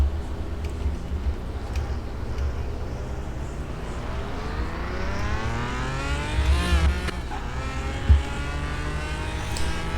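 Simulated Lamborghini Murcielago engine in Car Mechanic Simulator 2021 accelerating on a top speed run, a steady rising whine climbing through the gears with a shift near the end, moderately loud and without talk.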